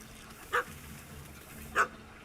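Dog in The Witcher 3 giving two short, sharp barks about a second apart, moderately close against a low ambient game background with no talk.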